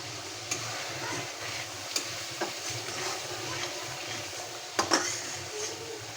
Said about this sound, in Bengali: 10 মিনিট আমি ভালো করে মশলাটা কষিয়ে নিলাম